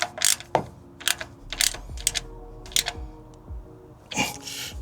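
A ratchet wrench clicks in short, uneven bursts while hand-tightening valve cover bolts on a 2007–2011 Toyota Camry, each burst a few quick metallic ticks separated by brief pauses, close and clear.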